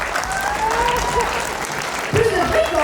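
Audience applause for cosplay contest participants and winners at a cartoon fair, steady clapping throughout with voices and shouts rising over it.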